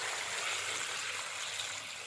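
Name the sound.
pouring water into a pot of turmeric on the stove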